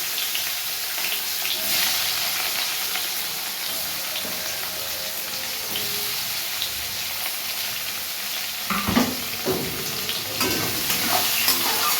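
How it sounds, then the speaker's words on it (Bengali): Onions fry in a pan of oil seasoned with whole cumin, cardamom, cinnamon and cloves, a continuous close sizzle with the scrape and clatter of stirring growing busier toward the end. "পেঁয়াজ ভাজছি"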